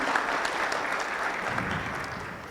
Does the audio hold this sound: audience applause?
yes